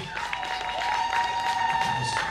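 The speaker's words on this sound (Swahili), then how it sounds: "Studio, makofi kwa kina vigeregere basi." Applause with high, trilling ululation rises at a send-off celebration in Dar es Salaam, a sustained wavering cry over steady clapping from a crowd, moderately loud throughout.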